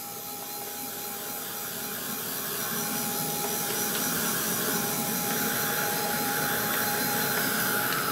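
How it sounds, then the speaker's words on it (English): A heat gun drying paint on an art journal page gives a steady, close, continuous blowing whir with a constant tonal hum that holds for the whole stretch and grows slightly louder midway. "get the heat gun on it"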